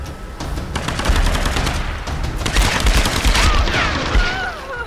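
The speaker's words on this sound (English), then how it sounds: "Wow, he just kept firing." Sustained gunfire in Tomb Raider: Definitive Edition, dense overlapping bursts of automatic shots and booms that keep rolling loud for the whole stretch, with debris and whizzing effects on top.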